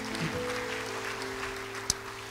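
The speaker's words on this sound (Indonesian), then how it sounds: "Yang mau beri tepuk tangan bagi Dia." A church congregation applauding during a sermon: a steady, even wash of clapping that carries through the whole moment, with a faint sustained tone underneath.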